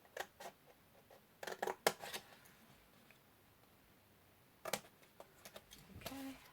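Scissors notching and cutting card for an acetate window gift box, a few sharp close snips in irregular clusters separated by quiet pauses.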